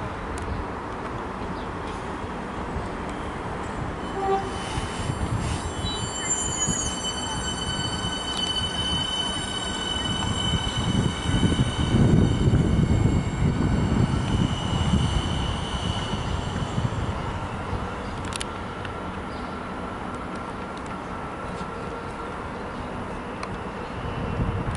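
Suburban train departing Laverton station in Melbourne: a steady rumble of wheels and motors builds and peaks mid-way as it pulls out, with high whining tones and brief squeals, then settles into fading rolling noise.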